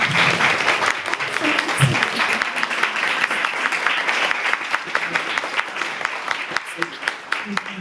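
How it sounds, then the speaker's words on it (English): Audience applause at a women's health expert panel on hormones, sustained clapping from a roomful of people that holds steady for several seconds, with a few voices faintly mixed in. "Everyone, let's give a big round of applause."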